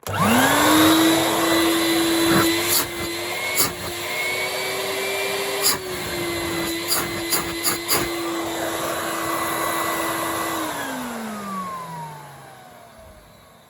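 Numatic Henry HVR200 vacuum cleaner after a pump repair: loud, steady motor whine that starts up, holds with a few knocks and clicks, then winds down and fades at the end, no talking.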